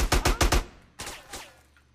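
Gunfire in the GTA San Andreas video game: a rapid string of four loud shots, a short pause, then a couple more quieter shots trailing off, with no voices.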